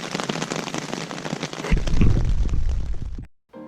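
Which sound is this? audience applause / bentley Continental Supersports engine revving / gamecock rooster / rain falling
rain falling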